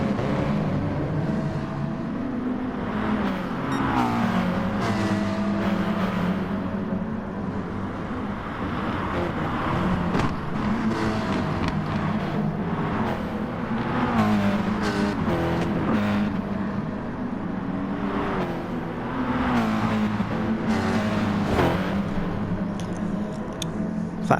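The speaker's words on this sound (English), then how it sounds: "you just see this long train of cars going through the green hell" Race cars in a racing video game run the Nürburgring Nordschleife at night during a 24-hour GT race, engines roaring continuously with repeated gear shifts and cars passing close by.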